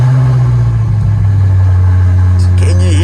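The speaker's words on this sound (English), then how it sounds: "let me just start it up for you guys so that you can hear that V8 sing" A 2023 BMW F90 M5 Competition LCI with its V8 running after start-up, a loud deep steady idle rumble close by, with a brief rising engine note near the end.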